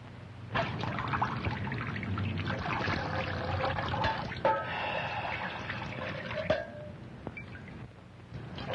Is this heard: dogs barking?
no